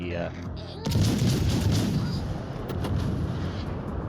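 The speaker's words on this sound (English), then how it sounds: "I want to see what kind of damage these guns are going to do" Warship guns in World of Warships: Legends fire a heavy broadside, a sudden deep boom followed by a long rumbling roll and scattered later impacts.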